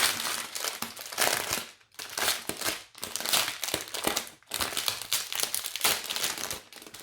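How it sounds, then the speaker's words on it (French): A plastic bag of diamond painting beads being opened, a long stretch of close, loud crinkling and crumpling that comes in bursts with brief pauses between them. "On va ouvrir le sachet."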